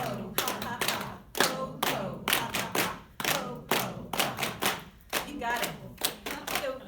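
Hands clap in a steady rhythm during a group laughter exercise, loud and close, with bursts of voiced laughing chants woven between the claps.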